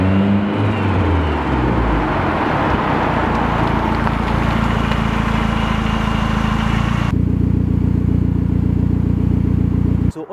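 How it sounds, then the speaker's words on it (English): Ford Sapphire Cosworth four-wheel-drive car with a YB engine driven hard, a loud close engine roar rising in pitch, then holding a steady heavy drone until it cuts off at the end. "I'll put some footage of Dan driving the car"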